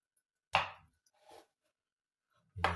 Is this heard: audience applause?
no